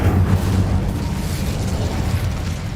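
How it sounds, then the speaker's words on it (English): A fire spell in the Hogwarts Legacy video game detonates in a wide circle, a loud, sustained booming burst with heavy low rumble that rolls on steadily for several seconds without any voices. "I upgraded my Incendio so it does some crazy blow up in a big circle"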